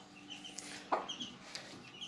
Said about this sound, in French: quand ta poule est heureuse de te voir